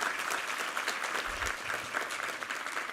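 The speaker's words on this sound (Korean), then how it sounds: "우리 하나님께 감사와 영광의 박수 올려드리겠습니다" A church congregation claps together during a Sunday worship service, a full, even wash of applause sustained throughout with no speech over it.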